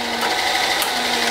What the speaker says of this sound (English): we're going to drill it, and then we're going to tap it